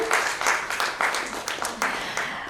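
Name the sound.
applause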